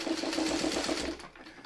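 A sewing machine stitching a quilt block, a close, steady rapid mechanical whir with rhythmic needle chatter that runs briefly and then stops.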